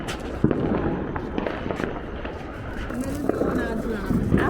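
Diwali firecrackers crackle and pop in scattered bursts outdoors, with sharp cracks over a steady noisy background while family members talk and call out nearby.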